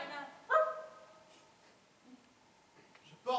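A dog barks on stage during a school theatre play: one sharp bark near the start and another at the end, with a quieter whimper and faint stage noise in between.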